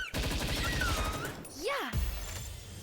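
Rapid gunfire in the Palworld video game aimed at a small seal creature, a dense burst of shots layered under excited talking and game sounds.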